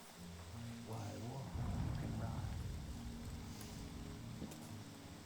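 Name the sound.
rain in a video game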